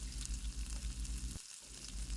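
Red chard and onion stir-fry sizzle softly in a pan, a faint, even crackle with stirring and a brief lull midway.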